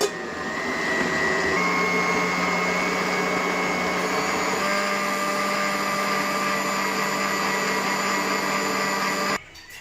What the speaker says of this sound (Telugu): వీటన్నింటినీ తీసుకొని మనం ఇప్పుడు మిక్సీ పట్టుకోవాలి